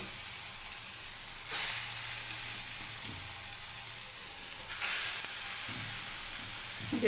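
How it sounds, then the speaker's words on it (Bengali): Lentil fritters fry in hot oil with a soft, continuous sizzle and hiss, fairly quiet, with a couple of brief surges as batter drops in. "এবার আমি দই বড়ার জন্য আমি বড়াগুলোকে সব ছেড়ে দিচ্ছি"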